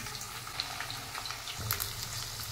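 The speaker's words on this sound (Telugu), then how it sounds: "ఇదే ఆయిల్లో ఇందాక మనం కట్ చేసి పక్కన పెట్టుకున్నాం కదండి దొండకాయ ముక్కలు, ఇవన్నీ వేసుకొని మంచిగా ఫ్రై చేసుకోవాలండి." Cut ivy gourd (tindora) pieces fry in hot oil with a soft, steady sizzle and crackle, plus occasional stirring clinks. The sound is faint and continuous.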